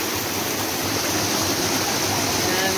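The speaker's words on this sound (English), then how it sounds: "And this is the river" Steady, close rush of flowing river water near Angel Falls in St. Mark's, Grenada, a broad continuous wash with no pauses, loud and even from start to finish.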